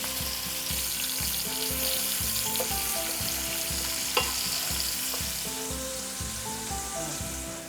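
Sausage sizzles steadily in a pan as it browns for jambalaya pasta, a dense continuous crackle with rhythmic stirring scrapes and one sharp clink partway through.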